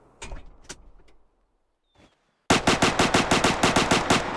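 In the Way of the Hunter hunting game, a .22 rifle fires a few scattered shots, then after a short silence a fast, loud, evenly spaced volley rattles off up close.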